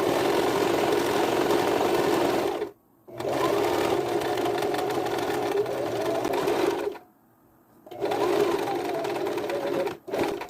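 A sewing machine sewing fabric for a patchwork top runs loud and steady in long stretches of buzzing whir, stopping briefly twice before starting again, close up with no talking.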